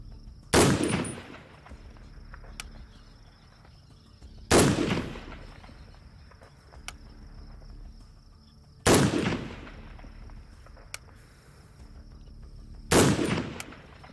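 An M1A rifle fires four single shots at steady intervals of roughly four seconds, each a loud, sharp crack followed by a decaying outdoor echo, with no talking.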